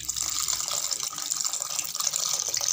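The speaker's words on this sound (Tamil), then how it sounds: "அடுத்ததாக புளி தண்ணி கரைச்சி விட்டுக்கலாம்." Tamarind water poured into a simmering black pepper gravy in a home kitchen, a steady close splashing rush that runs unbroken with no talking.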